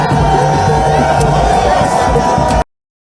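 A large crowd cheers and shouts loudly for the President of the Republic, Denis Sassou Nguesso, at a ceremony in Boko, with continuous close roaring that cuts off abruptly near the end.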